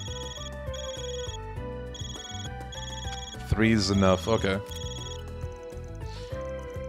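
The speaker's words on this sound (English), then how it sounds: "Your Resolve is ringing" A phone rings in the video game Trails Through Daybreak, sounding as a repeating electronic ringtone pattern over game music. Voices speak over part of it.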